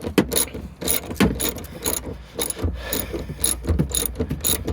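A ratchet wrench clicks rapidly in repeated bursts while unbolting the third-row seat bolts in a 2008 Honda Pilot cargo area, loud and close with short pauses between strokes.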